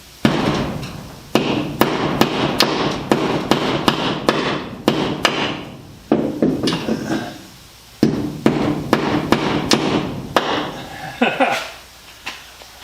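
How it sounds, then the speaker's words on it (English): A hammer with a magnetic tip driving a nail, a brisk run of sharp, close taps in several bursts with short pauses between, and some faint talking. "Got a magnet right on the tip that holds the nail right there."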